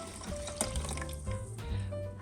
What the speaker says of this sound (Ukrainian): Заливаємо 300 мл холодної води